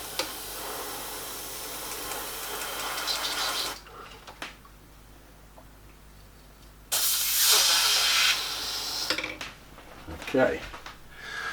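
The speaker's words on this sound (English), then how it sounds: "And spray a little lighter this time." Spray gun hissing as a lightened paint mixture with added white is sprayed onto a painting, in several loud bursts separated by quiet gaps, with some clattering and handling noises between sprays.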